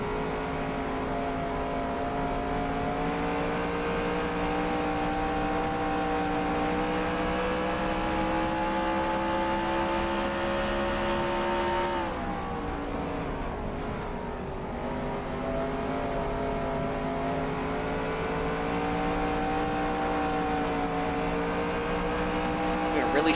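Race car engines drone steadily on a dirt track in NASCAR Racing 2003, a sustained whining roar with a brief dip and shift in pitch midway, running under a commentator's voice.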